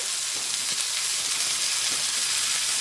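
Burger meat sizzles steadily on a hot surface with cheese melting on top, a loud, even, hissing fry with faint pops throughout and no talking.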